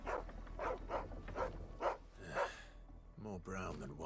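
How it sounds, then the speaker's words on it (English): A dog in Final Fantasy XVI gives a series of short, soft yelps and whimpers at a steady pace, with a voice talking over it near the end. "This is just a random dog,"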